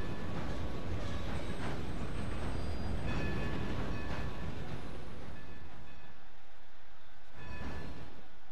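A train rolls along in Red Dead Redemption 2, a steady loud rumble with rhythmic clacking and faint metallic squeals, easing slightly toward the end.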